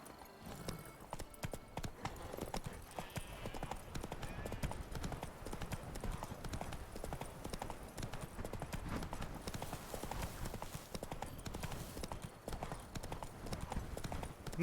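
Roach, a horse in The Witcher 3, trots with a dense, continuous patter of hoof beats at a steady rhythm, fairly quiet and unbroken, with occasional faint speech in the background.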